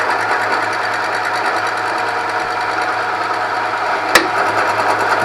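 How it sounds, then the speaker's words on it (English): A milling machine spinning at about 600 RPM cuts metal for a Ford Falcon restomod, giving a steady, close mechanical whir with a low hum underneath and one sharp click near the end. "Just take that last little bit off before my mill cuts out."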